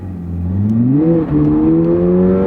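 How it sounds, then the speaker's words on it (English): A Subaru car pulls away hard on a small drag strip, its engine note rising steadily through the rev range and briefly dipping at a gear change before climbing again, loud and close with no talk. "Now we'll take it to our little drag strip here."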